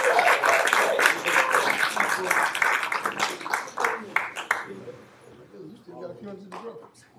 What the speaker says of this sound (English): another round of applause for the Cross Creek High School basketball champions